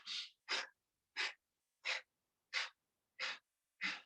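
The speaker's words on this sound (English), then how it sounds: "So you're forcefully breathing out and breathing in." Kapalbhati yoga breathing: seven sharp, forceful breath bursts at a brisk, even rhythm, each a short rushing puff separated by near silence, close and clear.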